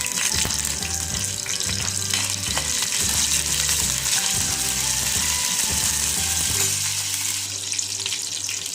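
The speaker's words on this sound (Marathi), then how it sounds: "जिरे मोहरी कडल्याच्या नंतर आपण त्यात कढीपत्ता घालून घेऊ।" Mustard and cumin seeds crackle and sputter in hot oil in a home kitchen pan, joined by curry leaves, making a loud, dense, continuous sizzle with rapid popping throughout, and no one speaks.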